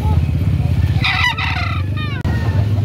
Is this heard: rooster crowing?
yes